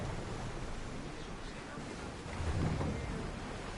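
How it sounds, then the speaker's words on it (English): Ship setting sail at sea in Assassin's Creed Odyssey: a steady wash of wind and waves with creaking hull noise, swelling slightly near the end, no clear talking. "Ready to set sail!"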